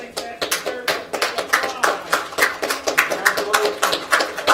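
Clapping breaks out after a US District Court citizen naturalization ceremony, a few pairs of hands striking in a quick, uneven rhythm nearby, fairly loud and sustained for several seconds without voices over it.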